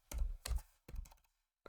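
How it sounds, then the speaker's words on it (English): Keys tapped on a Logitech K780 wireless keyboard, a few soft, close clicks in an uneven rhythm separated by short silences, with no talk. "whatever I'm typing on the keyboard"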